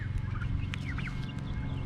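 Turkeys on a small farm gobbling in quick warbling bursts, several calls overlapping close by over a steady low background hum, with no talking.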